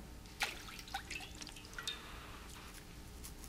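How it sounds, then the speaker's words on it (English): Water drips quietly as Pilate washes his hands before a crowd in a Passion scene, a few scattered, faint, isolated drops over a soft background hush. "Pilate calls for water and washes his hands in front of the crowd,"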